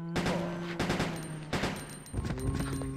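Gunfire in Resident Evil Code Veronica X comes as a few loud, close bursts of rapid shots, with ringing game tones sustained underneath.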